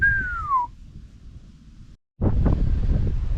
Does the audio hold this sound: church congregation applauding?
no